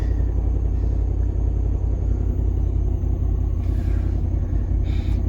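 A modified Ford Mustang Shelby GT500 engine of over 1000 horsepower rumbles at a steady, low idle, close and continuous, with no one speaking.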